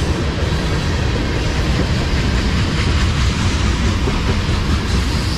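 A CSX freight train hauling empty tank cars rolls past close by, a steady loud rumble with faint clicking from the wheels and no pauses.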